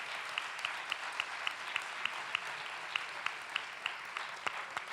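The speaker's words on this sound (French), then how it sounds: "des applaudissements." An audience claps steadily at the Prix Goncourt Italian-choice award ceremony, a soft, even wash of applause punctuated by regular sharper claps, heard from a moderate distance without speech.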